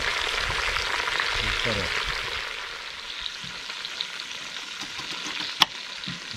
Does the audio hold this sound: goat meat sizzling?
yes